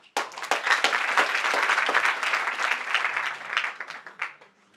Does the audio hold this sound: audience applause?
yes